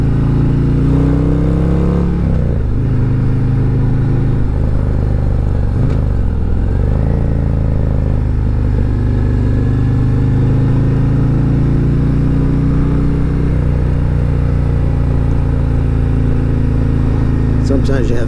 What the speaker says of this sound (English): Just a little bit of front brake, looking around that curve. A little downshift here.